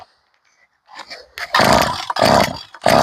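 A small engine with its choke on is pulled over several times, sputtering in short rough bursts that catch briefly and die between tugs, close and loud.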